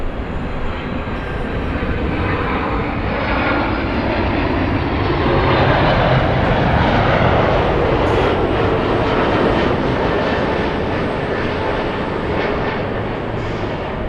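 Southwest airliner landing on runway 24 right at LAX, heard as a steady, broad jet roar that swells toward the middle and holds loud throughout, with no voices.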